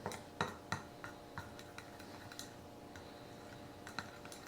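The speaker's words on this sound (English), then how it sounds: "just going to mix it up. All right, so we just want to make sure the salt gets mixed in" A spoon stirs salt into food in a cooker for a German dish, giving a steady run of light scraping clicks and taps against the pot, with no talking.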